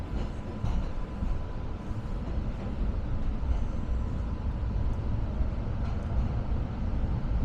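An MBTA B branch trolley on a winter ride toward Boston College rumbles steadily along the rails, a low continuous rolling drone with faint clanks and no voices.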